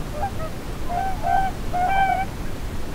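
Whooper swans call from outside a tent at the gateway to Sarek National Park in winter, giving a few soft, honking, trumpet-like notes at moderate distance over a low background rumble.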